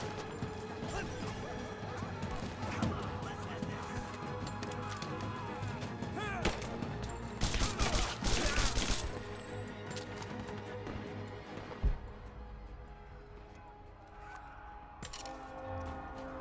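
Enemy gunfire in Rise of the Tomb Raider at the Acropolis, with a dense rumbling battle bed and a cluster of loud crashing shots in the middle, then a single sharp bang later.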